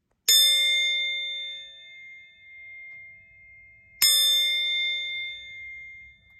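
Two bright metallic rings from a high-carbon steel tool, each struck once and left to decay slowly with a clear, sustained shimmering tone, a few seconds apart.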